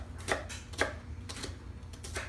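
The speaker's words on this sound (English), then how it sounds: "And the same with the shallot. I'm just going to roughly chop it." A knife roughly chops a shallot on a cutting board, giving about five quiet, evenly spaced taps over a faint low hum.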